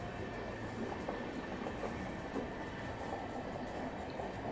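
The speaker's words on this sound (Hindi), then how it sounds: "लोकमान्य तिलक सुल्तानपुर एक्सप्रेस को हम लोग आठगांव रेलवे स्टेशन में ओवरटेक कर रहे हैं" Rajdhani Express running at speed past the Lokmanya Tilak Sultanpur Express at Athgaon railway station, a steady dense roar of wheels and rail clatter heard from on board with no pauses.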